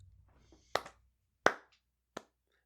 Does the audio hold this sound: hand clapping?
yes